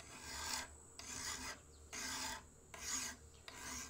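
A metal file rasps along the spine of a bushcraft knife to square it to 90 degrees: four steady, even strokes close up with short pauses between, and no talk.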